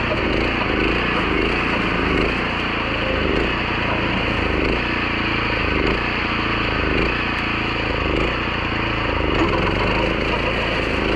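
A BCS 732 two-wheel tractor grinds through heavy weedy growth, its engine roaring loud and close with rhythmic splintering and crunching of woody stems across the whole stretch, no voices.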